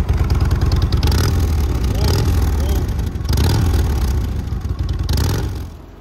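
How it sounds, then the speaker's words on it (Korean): The exhaust of a 2012 Harley-Davidson Electra Glide motorcycle rumbles loudly at close range, rising in a few throttle blips with a deep, throbbing beat before easing off at the end. "배기 소리 들어보죠."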